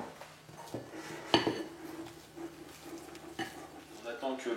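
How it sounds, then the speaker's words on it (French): Beaten egg whites being folded into batter in a bowl make soft scraping and stirring sounds, with occasional clinks of the utensil against the bowl, heard up close with no talking. "On va maintenant les incorporer à la préparation, donc on va y aller en plusieurs fois."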